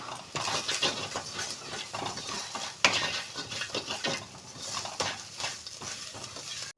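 Chopped onions with salt and turmeric fry in a pan for a masala dosa filling, a steady close sizzle broken by constant scraping and stirring of a utensil, loud and with no voices.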